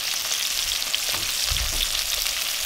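Pieces of katta fish frying in a pan of hot oil, a steady close sizzle and crackle with a slightly louder bubbling burst partway through, no voices.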